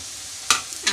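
Masala spices tipped into hot oil for an Assamese goruah fish curry, giving a sudden loud sizzle halfway through that fades, then flares again near the end with stirring.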